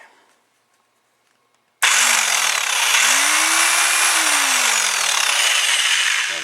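A cordless Mastercraft impact driver, after a cord repair, whirs to life after a moment of silence, its motor pitch sliding up and down as it runs steadily, close and loud.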